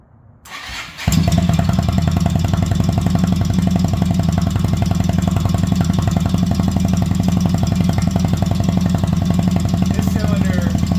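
A cheap used motorcycle with a possible oil shortage cranks briefly, then fires into a loud, steady, throbbing idle that runs on close to the microphone.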